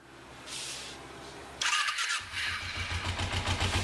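Kawasaki Ninja 250 motorcycle starter cranks the engine in a short, fairly quiet burst, with a rough pulsing churn heard close by.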